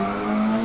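Mini karts race and slide in the GRID video game, a brief, steady engine drone with a tire-squeal edge, loud and close, with no voices.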